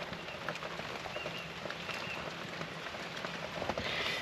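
Steady rain pours down outdoors in New Zealand at a boat repair site, a dense even hiss with scattered drop patter and no voices.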